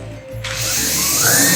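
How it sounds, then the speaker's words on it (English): A power drill drives screws into a wooden board, the motor winding up into a loud, rising whine after a brief low rumble, close and alone. "We're going to take a few screws here, and we're going to add a couple screws, 3 actually, to this board."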